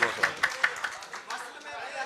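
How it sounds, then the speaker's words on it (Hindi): An audience at a poetry mushaira claps in a few quick, evenly spaced bursts that soon thin out, with crowd chatter mixed in. "जरा तालियां होनी चाहिए पहले तो।"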